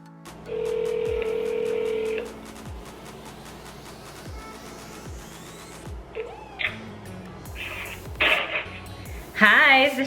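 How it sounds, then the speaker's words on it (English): A phone call is placed for real estate cold-calling practice with an Atlanta realtor: a steady ringback tone sounds twice, then a voice comes on and people talk over the line. "So let's get Jada on the phone."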